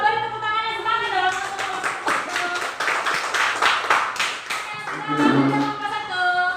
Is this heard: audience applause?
yes